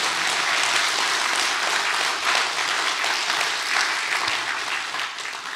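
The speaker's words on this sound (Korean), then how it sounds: "우리 이렇게 큰 신앙과 기도를 지켜주신 하나님께 감사의 박수 올려주시면" A church audience breaks into sustained applause, dense continuous clapping from many hands filling the room for several seconds, fading slightly toward the end.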